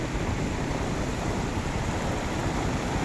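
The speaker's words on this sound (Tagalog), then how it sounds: "Yan malakas yung tubig dito mga kabundok." Strong floodwater rushes along the Old Cabalan national highway in Olongapo during Typhoon Carina. It makes a dense, loud, steady roar with no breaks and no voices.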